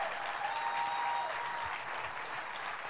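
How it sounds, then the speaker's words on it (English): A conference crowd applauds a commissioner, a steady wash of clapping at moderate level that stays even throughout with a faint whistle. "Let's give him another round of applause"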